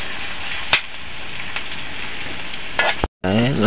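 Hotdogs fry in a pan over a wood-fuelled cooking fire, a dense continuous close sizzle with a few stirring clacks and a short voice near the end.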